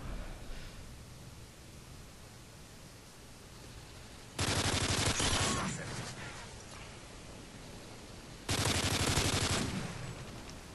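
Gunfire during a Team Deathmatch on Foundation in Call of Duty Modern Warfare 3, with two loud bursts of rapid shooting, each lasting about two seconds, rising out of a quieter background hiss.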